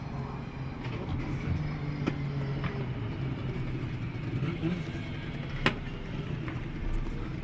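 Drift cars running down the front straight at Manfeild during a DriftWars event, heard as a faint, steady engine drone from a distance with a small bump in level partway through.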